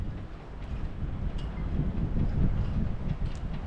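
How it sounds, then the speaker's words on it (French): Wind buffets a sailboat at sea: continuous low rumbling gusts and microphone wind noise that swell and ease, with faint creaks and knocks from the boat, and no talking. "il y a un petit peu de vent."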